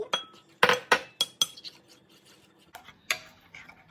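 A utensil scrapes and clinks against a bowl while coconut milk is stirred into an ube kalamay mixture, with sharp irregular taps and clatters separated by quieter scraping gaps.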